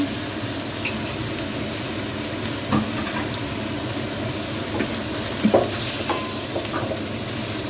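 Pounded chili paste being stir-fried with bamboo shoots and pork, a steady close sizzle under occasional scraping strokes of a utensil in the pan, no talking.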